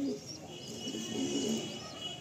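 Madrasi pigeon cooing in soft, low, repeated calls, fairly close, over a steady background hum with no talk.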